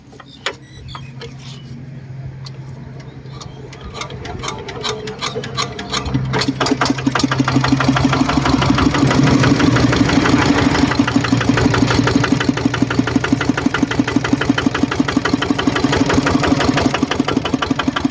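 A single-cylinder Kubota RT140 diesel engine cranks and catches, then settles into a loud, rapid, even knocking idle that runs on steadily.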